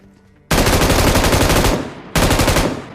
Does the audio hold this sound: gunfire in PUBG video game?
yes